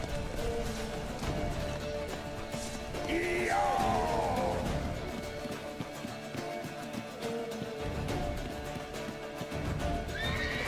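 A horse in Witcher 3 gives a loud, shrill whinny midway, set against galloping hooves and a busy, noisy game background, with another short neigh near the end.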